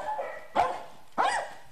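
A dog gives two short, sharp barks about half a second apart, fairly close and clear, with a softer whine-like sound before the first.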